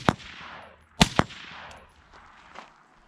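Suppressed gunshots: one sharp, muffled report near the start, two more in quick succession about a second later, then a fainter crack, with quiet gaps between.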